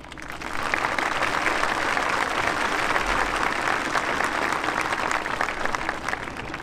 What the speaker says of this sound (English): I'd like to give a special round of applause to all of the amazing teachers, advisors, coaches, counselors, and mentors that we say goodbye to today.